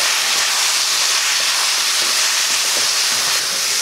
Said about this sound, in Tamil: வேக வச்ச மட்டன் சேர்த்துடலாம். போட்டு இதை வதக்கலாம்.